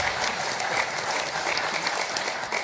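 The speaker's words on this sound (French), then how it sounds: "Je crois qu'on peut l'applaudir." Warm audience applause at the opening session of a conference in Bordeaux, a continuous wash of many hands clapping together, moderately distant and steady from start to finish.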